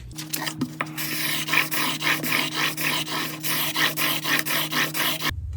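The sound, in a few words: sharpening fixed blade broadhead on 1000 grit stone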